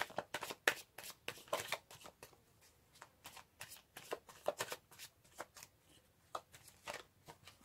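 Tarot cards being shuffled for a reading, a steady run of crisp riffling and slapping card sounds in quick irregular bursts, close and fairly quiet, with no talking over them.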